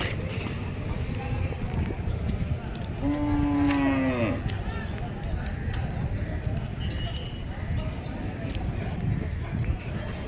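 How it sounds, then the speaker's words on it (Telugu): Buffaloes, bullocks, cows and calves crowd a livestock market in Vikarabad; one long, close moo rises over constant crowd murmur and shuffling animals, with distant voices throughout. "అన్ని ఎడ్లు ప్లస్ బర్రెలు చిన్న చిన్న ఆవులు దూడపిల్లలు అన్నీ వచ్చినాయి"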